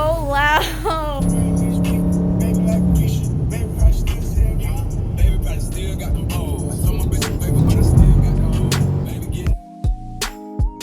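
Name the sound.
Dodge muscle car cold start with catless mid pipes exhaust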